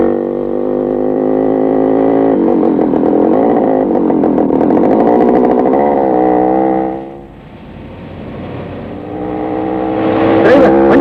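Engine of a moving vehicle hums steadily while driving, loud and close, dipping briefly before rising again, with voices talking over it.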